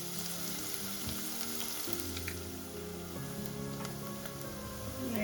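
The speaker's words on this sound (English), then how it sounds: "Hear that sound, that sizzle? That's what you want to hear." Onions sautéing in a hot pan for a homemade Chicago style deep dish pizza, a steady close sizzle and crackle running without pause, with low kitchen hum underneath.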